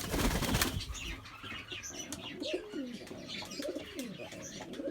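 A male Mulemans homing pigeon beats its wings in a loud burst of flapping near the start, followed by softer wing flutters and low cooing close by.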